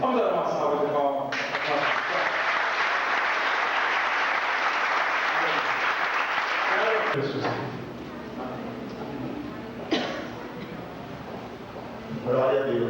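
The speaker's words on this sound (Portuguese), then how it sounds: "Vamos dar uma salva de palmas." Congregation applauding in a church service, a loud sustained wave of clapping for about seven seconds, with speech before it and a voice talking over reverberant room noise once it dies down.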